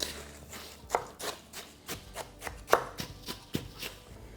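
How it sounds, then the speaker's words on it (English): Cooked sausage being broken into chunks and mixed with bread for a sage dressing, heard as a series of close, soft thuds and scrapes in an uneven rhythm, with no talking. "all we want to do is kind of break up that sausage into smaller chunks and then just incorporate it with that bread"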